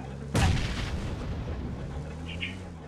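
A grenade blast in the mobile battle royale game BGMI, one loud booming burst that decays into a lingering rumble, with faint game sounds afterward.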